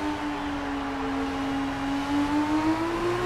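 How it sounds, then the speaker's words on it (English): An F1 race car engine in the F1 2019 video game holds a steady high whine that slowly rises in pitch, continuous and loud with no talk over it. "Listen to the car, not over-rev the engine in some of these corners."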